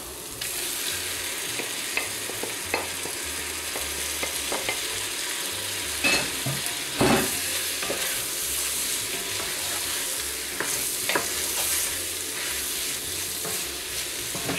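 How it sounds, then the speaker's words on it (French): Pieces of lamb for rogan josh fry in a hot pan, a steady loud sizzle with intermittent scraping and stirring of a spoon, close by and without talk. "Allez, je rajoute la viande."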